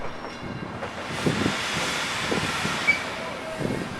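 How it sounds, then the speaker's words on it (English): A Chicago and North Western bi-level passenger train rolls into a station with a steady broad hiss and rumble, faint clunks and squeals breaking through now and then. "Chicago and Northwestern bi-level coaches like these arriving at a station"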